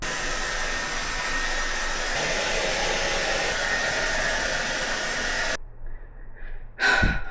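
Hair dryer blowing steadily at close range on freshly dyed pink hair, a loud continuous whoosh that cuts off abruptly near the end, followed by a brief rustle and a short burst of airflow.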